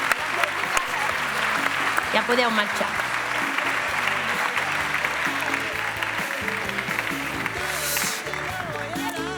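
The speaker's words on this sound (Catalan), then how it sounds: "Un aplaudiment per aquests secretaris tan eixerits." A theatre audience at the Teatre Principal de Terrassa applauds steadily and loudly, with music playing underneath and a voice speaking briefly over the clapping.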